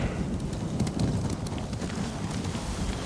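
In Ghost of Tsushima, horse hooves clop softly over a steady windy, rain-like outdoor ambience, the steps faint and partly blended into the background.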